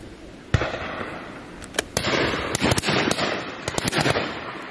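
Shotguns firing at driven pheasants on an Exmoor shoot, a loud near blast followed by a scattered run of sharp reports, some close and some distant, over a steady outdoor background with no talk.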